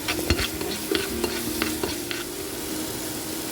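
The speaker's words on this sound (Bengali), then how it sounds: "তারপরেও আমি একটু কষে নেব ভালো করে।" Spice paste stirred and fried in hot oil, with a steady sizzle under quick, rhythmic scraping strokes of a spoon against the pan, close and fairly loud, fading to plain sizzling toward the end.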